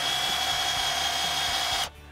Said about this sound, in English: naturally we're going to be able to put our drill on there.